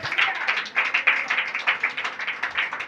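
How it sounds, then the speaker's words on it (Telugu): An audience claps hands loudly in a church sermon setting, a dense, steady patter of many palms sustained throughout with no voices over it. "అందరూ గట్టిగా చప్పట్లు కొట్టాలి."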